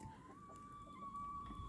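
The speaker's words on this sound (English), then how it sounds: "Poor chickens are in there screaming." Chickens cluck and squawk inside a coop during an Oklahoma blizzard, a faint, continuous bird chatter heard from close by with no talking.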